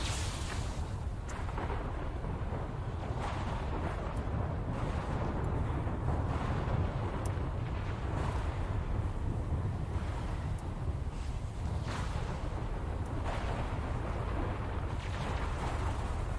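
A sandstorm in the Dune Awakening video game, a steady, loud roar of howling wind and rushing sand that holds constant throughout with no talking.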